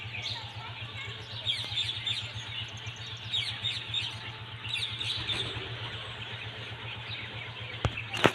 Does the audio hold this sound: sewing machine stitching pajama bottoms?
no